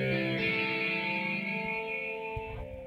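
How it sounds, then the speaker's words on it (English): Electric ukulele converted from a Gibson Thunderbird electric mandolin, strung with a low G and played through a small Roland Micro Cube amp: a sustained, effected chord rings close and steady, with slight echo and shimmer, fading near the end. "It's basically a Gibson Thunderbird electric mandolin, which my good friend Graham has sorted for me into a electric ukulele with a low G"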